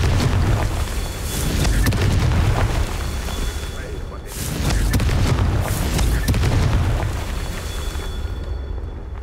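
Confringo fire spell blasts in Hogwarts Legacy, a video game, landing as repeated deep booming bursts at a steady loud level, under a thick rumbling bed of game sound with a voice speaking.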